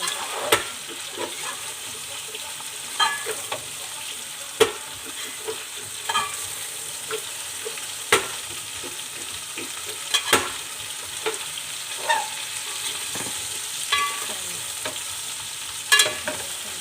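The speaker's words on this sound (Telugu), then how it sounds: "బాగా ఫ్రై అవ్వాలి." Potato and cauliflower pieces fry in a pan with a soft steady sizzle, broken by sharp clicks and scrapes of a spoon stirring at irregular intervals, close and fairly quiet.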